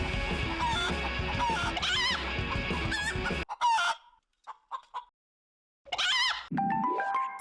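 Toy chickens clucking and crowing during a chicken race game, loud busy bursts at first, then a few short squawks separated by silence, ending with another loud burst of clucks.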